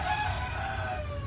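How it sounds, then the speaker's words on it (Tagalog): A rooster crows once in a long, drawn-out call that slowly falls in pitch, fairly close and loud over a steady low background rumble. "may manok."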